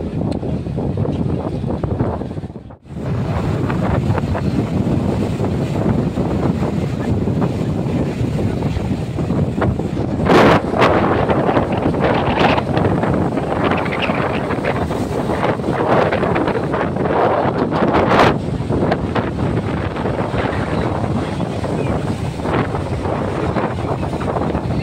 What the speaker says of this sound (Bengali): একদিকে সমুদ্রের এই মারাত্মক হাওয়া